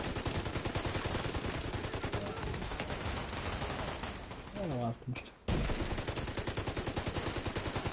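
Turret gunfire in The Division 2 on PS4: a sustained, loud stream of rapid shots that drops out briefly near the middle and then resumes just as densely, while a player speaks under the firing.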